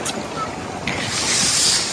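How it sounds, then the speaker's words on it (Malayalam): Strong wind blows at the seaside corniche in Jeddah, buffeting the microphone with a continuous rushing noise that swells briefly toward the end. "നല്ല കാറ്റടിക്കുന്നുണ്ട് കേട്ടോ"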